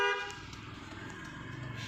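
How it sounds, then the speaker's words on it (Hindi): A car horn sounds one short, close, sustained honk from inside the car during a driving lesson in traffic, just before a left turn, with engine hum underneath. "बस एक बार हॉर्न"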